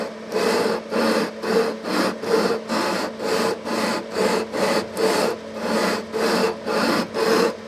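A leveling bar rubs back and forth along the frets of a Breedlove acoustic guitar, producing a steady rhythmic rasping, about a dozen even strokes, close and clear with no talking.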